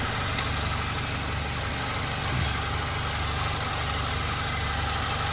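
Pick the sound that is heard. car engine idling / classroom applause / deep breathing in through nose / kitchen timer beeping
car engine idling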